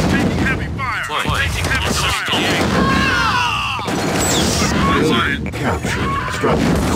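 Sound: gunfire on units in strategy video game

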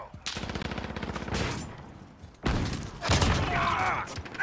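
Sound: shotgun shot from a video game

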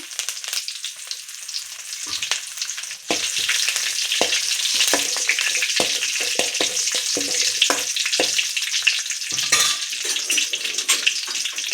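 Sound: curry leaves frying in tempering oil

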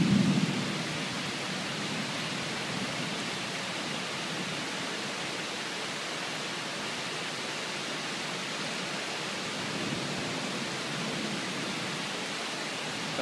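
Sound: thunder during a night storm

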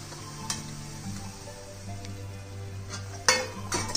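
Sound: mixing dhokla pieces in tempering pan

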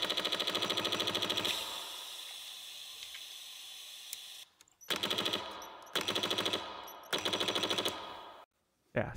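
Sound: fully automatic gun firing in a video game

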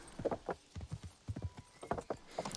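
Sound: horse riding hooves in video game Kingdom Come Deliverance

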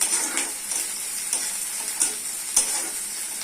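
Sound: ginger garlic paste frying with onions, being stirred

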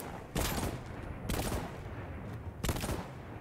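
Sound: mines exploding in Voidtrain video game

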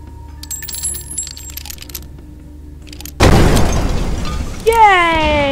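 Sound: Molotov explosions and fire in video game Kill It With Fire

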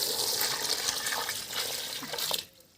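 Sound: pouring water into cooking pot

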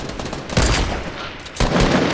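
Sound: gunfire from a Fortnite Battle Royale video game

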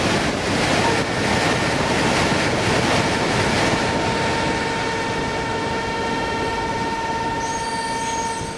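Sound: train running on track in video game Train Simulator

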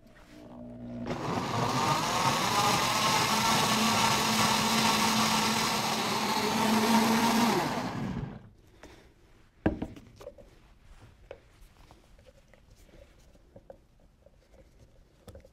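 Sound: blender mixing peanut butter on low speed

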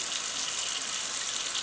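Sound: kitchen sink tap water turned on

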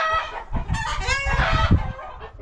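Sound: chickens clucking

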